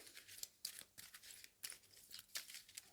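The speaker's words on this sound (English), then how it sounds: "Give him another shuffle." A deck of game cards is shuffled during a tabletop playthrough of the Pocket Landship Black Box 2nd Edition card game, making soft, quick riffling and papery flicks in several short bursts, quiet and close.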